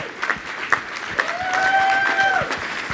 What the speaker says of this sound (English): this is the part where you clap right now.